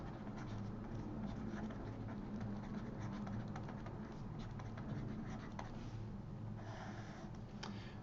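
Chalk or marker scratching steadily across a board as a theorem statement is written out in a maths lecture, continuous faint scraping strokes over room noise with no talk.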